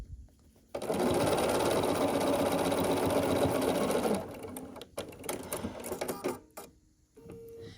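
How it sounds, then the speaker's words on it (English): A sewing machine stitches a quilt block seam at a quarter-inch allowance, running fast and steady for about three and a half seconds, followed by softer fabric handling and small clicks nearby. "we sew along this edge with 1/4 inch seam allowance"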